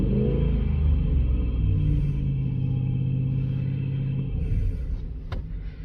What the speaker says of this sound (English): please increase speed to 2500 RPMs and keep in 5 seconds.